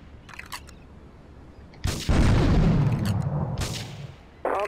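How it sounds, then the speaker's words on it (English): Video game gunfire and explosions in GTA 3 at Portland Harbour, with loud broadband blasts and a sustained roaring burst lasting a couple of seconds, followed by another sharp boom near the end, over a quiet background. "Investigate reports of gunfire and explosions."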